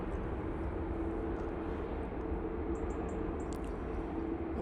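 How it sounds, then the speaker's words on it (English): Airbus A350 engines in reverse thrust after landing at Manchester Airport, a steady broad roar holding evenly throughout, moderately loud at a distance with no talk over it. "Some decent reverser action off that 350."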